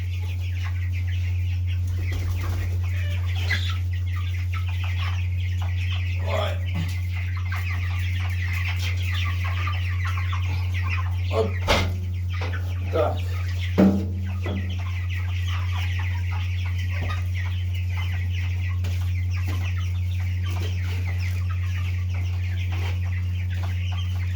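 Broiler chickens make raspy, wheezing clucks and rattly breaths over a constant low mechanical hum, with a few louder squawks scattered through.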